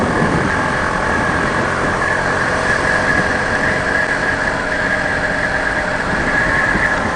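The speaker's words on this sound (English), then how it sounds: "so you can hear the engine a bit maybe" A 2018 BMW G310R motorcycle engine drones steadily while riding, with constant rumble and wind noise throughout and no talking.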